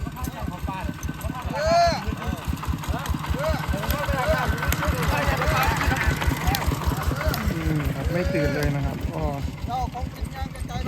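A farm tractor passes close by with a loud, steady chugging engine pulse that swells in the middle and fades slightly, while voices talk over it throughout.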